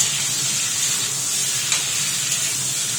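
Vegetables cooking with an ilish fish head, jackfruit seeds and drumstick pieces sizzle steadily in a pan as they are stirred, giving a constant close hiss with a faint scrape of the spoon.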